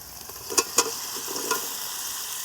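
Boiled jackfruit and potato are stirred into frying spices in a pan, giving a soft steady sizzle with a few sharp spatula scrapes near the start, close and without speech.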